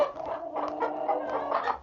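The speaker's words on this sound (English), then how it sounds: "She's right over here, and I just want to pick her up, and she keeps flapping away." A tiny hen named Peanut clucks in short agitated bursts while being picked up, her calls close and fairly loud with rustling from wing flapping underneath.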